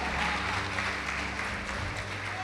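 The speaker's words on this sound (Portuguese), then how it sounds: "Quem pode aplaudir o Senhor Jesus comigo?" Church congregation applauding during a sermon, a dense, continuous wash of clapping from many hands heard from some distance, fairly faint and even throughout.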